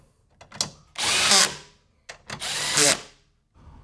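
A power tool tightens the bracket bolts of an OMEGA dual battery system being installed in a Jeep Wrangler JK, running in two loud, close whirring bursts of about a second each with brief quiet between.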